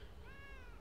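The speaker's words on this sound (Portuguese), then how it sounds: "Oh, tem um gatinho preto" A black cat meows once in The Elder Scrolls Online video game, a short, faint, rising and falling meow over a low background hum.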